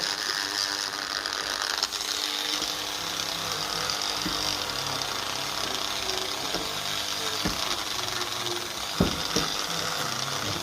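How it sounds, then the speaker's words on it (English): A Dremel wire brush whirs steadily against a 1950 Lucas D3A4 distributor part, a dense continuous buzzing scrub with occasional sharper ticks and knocks, close up and without talk. "I find these wire brushes with the Dremels here, they do not leave marks at all."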